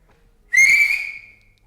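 A person gives one sharp, sustained whistle, a single bright tone that starts abruptly, holds for about half a second, then fades out gradually; no talking during it.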